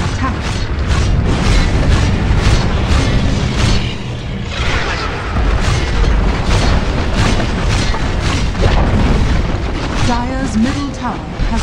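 A Dota 2 tower falls amid loud layered booms, crashes and mechanical battle effects that run continuously, with an announcer voice and commentary over the top.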